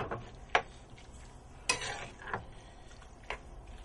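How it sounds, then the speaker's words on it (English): Pappardelle pasta is tossed with sauce, chicken and vegetables in a pan, giving a soft continuous stirring sound broken by a few sharp clinks of utensil on metal. "just going to gently toss all the parpadelle with the sauce and the chicken and the vegetables"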